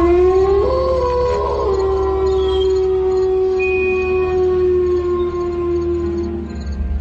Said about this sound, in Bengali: এবার তার সঙ্গে শিয়ালের ডাক যোগ হল।